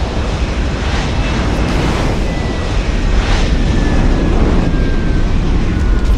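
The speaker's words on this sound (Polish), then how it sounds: "No jest odrzutowiec." A jet aircraft arrives in a video game with a loud, continuous broadband roar that swells slightly as it goes on, and no speech over it.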